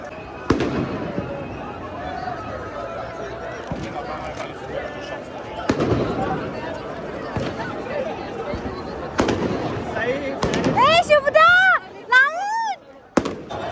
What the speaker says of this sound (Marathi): फटाके पण वाजतायत.